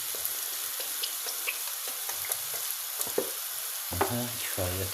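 Cold tomato sauce hitting a hot, sizzling pan for pasta, a steady frying hiss with stirring scrapes and a short burst of liquid pouring near the end.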